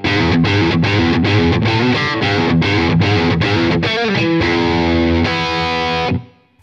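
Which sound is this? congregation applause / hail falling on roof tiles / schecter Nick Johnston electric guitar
schecter Nick Johnston electric guitar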